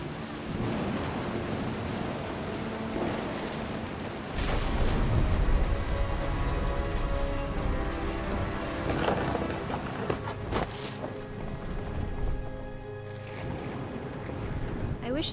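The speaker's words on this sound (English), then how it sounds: "The thunder sounded much too close and full of angry growling." Thunder and steady rain in the video game What Remains of Edith Finch, a continuous storm wash with a deep rumbling roll swelling in the middle, heard beneath voice narration and music.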